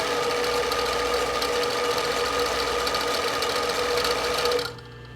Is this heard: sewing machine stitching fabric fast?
yes